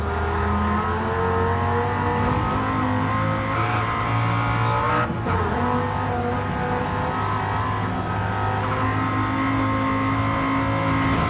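A Dodge Viper race car engine in Gran Turismo 7 holds a steady, loud high-revving drone with a brief dip midway, joined by other cars' engine noise during a racing round.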